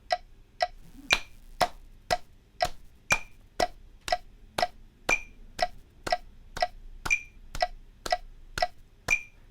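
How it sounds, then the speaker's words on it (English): Sharp hand claps land in steady time with crisp metronome clicks, about two per second, each clap falling right on a click in a quiet room during a bass practice session. "we're going to start clapping once for every click"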